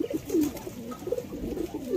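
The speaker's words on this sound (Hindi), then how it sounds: "वो देखिए दोस्तों कबूतर" Pigeons coo in soft, repeated low rolling calls close by, a few overlapping phrases over a faint background hiss.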